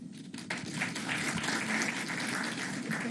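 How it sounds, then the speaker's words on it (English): Audience clapping during a Prime Minister's speech at LUMS, a dense sustained burst of applause that swells after a brief quieter start and holds steady to the end. "this one genuinely deserves a clap"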